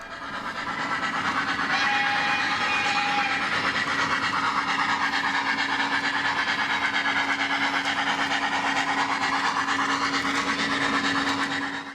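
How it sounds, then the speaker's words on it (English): A model train on a scratch-built layout crosses a curved trestle with a steady rolling rumble and faint rhythmic clatter that holds evenly, close and alone, before fading at the end. "a train crosses this gorgeous curved trestle at Gary, Montana."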